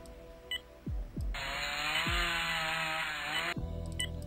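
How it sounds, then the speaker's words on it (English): A chainsaw used as a surgical tool in the Amateur Surgeon video game revs up after a few quick thuds, holding a loud buzzing whine for about two seconds before cutting off. "working with the chainsaw kills people like crazy"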